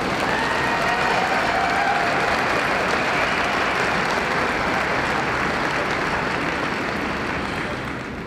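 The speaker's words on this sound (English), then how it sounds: "Frank Costella a nice round of applause?" Sustained, dense applause from a large audience filling a horse show arena at the World Percheron Congress, loud and steady throughout with a faint crowd murmur, easing slightly at the end.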